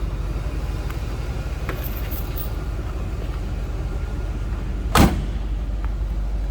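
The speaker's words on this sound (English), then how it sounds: "That door closes and fits." The door of a 1975 Chevrolet Corvette coupe shuts with a single solid thud amid a steady background hum, with a few faint clicks before it.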